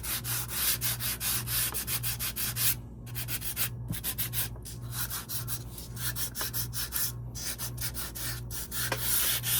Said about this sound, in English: I'm using my finger sander with a really fine grit. And I'm just going over it a little bit